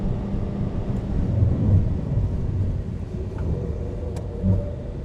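A sports car's engine drones steadily under acceleration on the Fuji Speedway circuit, a dense, loud rumble that swells slightly midway with no voices over it.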